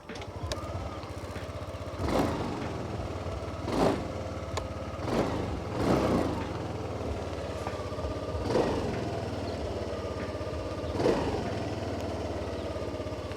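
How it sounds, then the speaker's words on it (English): A Yamaha Aerox 155 scooter engine runs steadily at close range, with its exhaust note swelling in several brief revs at irregular intervals, no voices present. "let's listen to the exhaust sound of this Aerox 155"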